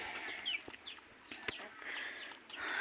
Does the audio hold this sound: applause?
no